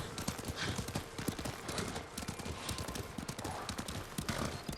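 A horse's hooves clip-clop in the Ghost of Tsushima video game, a fast, continuous rhythmic trotting at close range with a dense scatter of hoofbeats and no talking over it.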